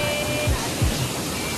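A free-falling waterfall near Juayua, El Salvador, gives a steady, close rush of water that fills the short moment.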